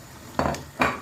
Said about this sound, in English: So right now I'll be adding my periwinkle to it